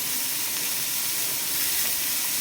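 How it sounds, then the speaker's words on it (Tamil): Onion and garlic roasting in a pan for pasta make a faint, even sizzling hiss that stays constant throughout, with no talking. "வெங்காயமும் பூண்டும் தான் நம்ம நல்லா ரோஸ்ட் பண்ணணும்."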